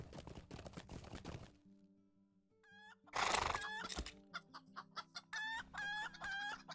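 Pet chickens in the online game The Lord of the Rings Online, on the Arkenstone server in the Trollshaws, cluck in a series of short rhythmic calls, with a rooster crowing, over a soft ambient background.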